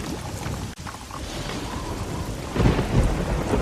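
A thunderstorm rolls on with steady rain and gusting wind, a dense broadband wash that swells louder toward the end and carries a low rumble of thunder underneath.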